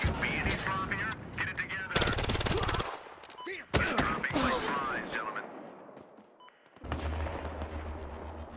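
Bursts of automatic gunfire in the video game Battlefield Hardline, rapid rattling volleys interrupted by short gaps and broken by a few single shots.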